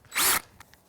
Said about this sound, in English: Most people have a drill and a drill bit.